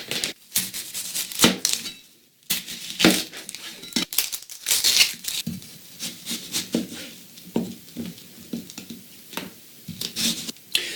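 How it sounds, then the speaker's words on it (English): A knife chops vegetables for vegan fajitas on a wooden board, with crisp irregular cuts and rhythmic thuds close up, plus occasional rustling of produce between bursts. "let's go ahead and cut up all the rest of the vegetables"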